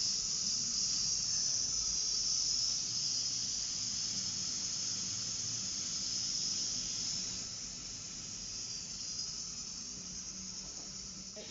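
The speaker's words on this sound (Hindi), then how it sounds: "इतनी देर में जो कुकर में दाल तैयार हो रही है" A pressure cooker of mash dal hisses steam in a continuous, bright, high-pitched jet, steady and fairly close, easing slightly toward the end with no talking.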